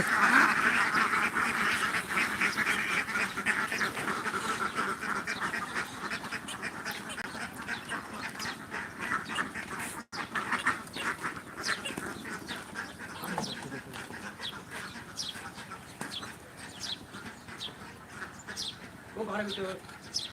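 Ducks at a hatchery being let out toward a pond quack throughout in a busy, overlapping flock, close and fairly loud, with people talking and calling over them.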